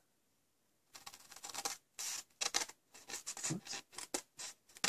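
Paper for a napkin-topped card box being cut with scissors, with close, crisp snipping strokes in short irregular bursts after a moment of silence.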